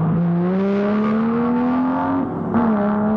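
Race cars at a 1973 touring car race at Warwick Farm heading down the track, a loud engine whine climbing steadily in pitch with a brief break and a second engine joining near the end.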